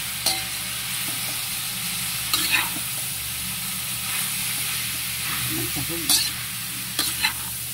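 Chicken sizzles steadily in a hot pan while cooking for pansit canton, a constant close hiss broken by a few brief scrapes of a stirring utensil, with no voice over it.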